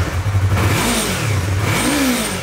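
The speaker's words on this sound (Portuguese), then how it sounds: "vamos dar uma ligada nela pra gente já esquentar o motor" Yamaha MT-03 motorcycle engine close by, a loud throaty idle rising into two quick revs with climbing pitch, no talk over it.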